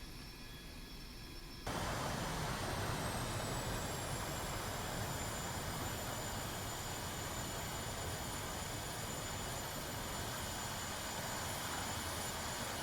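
A Su-25T jet in the DCS World flight game, throttle cut on a short runway, gives a steady, dense engine roar and wind rush that swells after a quieter opening and holds unbroken, with a faint high whine running over it.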